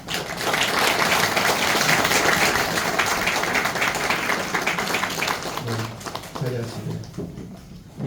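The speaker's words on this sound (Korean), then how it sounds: "박수로 하나님 축하합니다" Congregation members applaud at a church pastor installation ceremony, with a loud, sustained burst of clapping that gradually thins out and fades, while voices speak toward the end.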